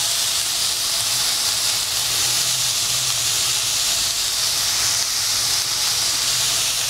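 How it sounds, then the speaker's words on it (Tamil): Chopped onions sauté in a pan for dry gobi manchurian, giving a steady, loud, close hiss of sizzling that runs unbroken throughout with no voices. "இந்த வெங்காயம் கொஞ்சம் வதங்கட்டும்"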